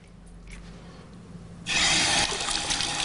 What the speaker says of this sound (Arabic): نغسل اليدين إلى الرسغين،